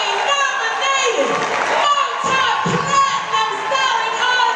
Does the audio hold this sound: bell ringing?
no